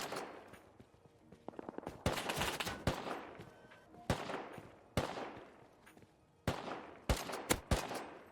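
Loud bursts of gunfire in the video game Rust crack repeatedly, mixing rapid automatic volleys with single sharp shots, spaced unevenly across the stretch.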